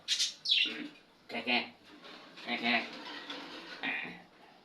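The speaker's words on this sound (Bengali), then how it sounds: "এই আমার বাজিগর পাখিগুলা" Pet budgerigars chirp and twitter in bright, quick bursts close by, mixed with a person talking.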